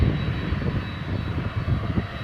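Passenger jet taxiing at DFW Airport, its engines a steady, loud, close rumble with a thin high whine running through the whole stretch, no voices.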